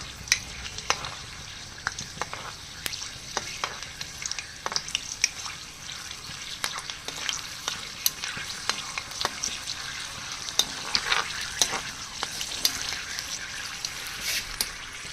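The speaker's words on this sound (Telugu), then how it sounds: "ఇవి వేగించాలండి సిమ్లో పెట్టి నెమ్మదిగా వేగించాలన్నమాట" Seeds slowly roasting in a pan over a low flame give a soft, steady sizzle dotted with light crackles and the scrape of stirring, with no voices.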